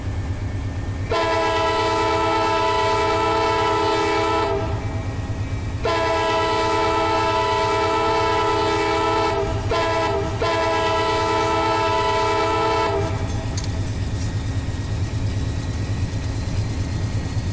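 A passenger train, the Silver Meteor, runs in Run 8 Train Simulator, with a loud, steady rolling rumble and a horn sounding in long blasts, two sustained and then several shorter, before the rumble continues alone.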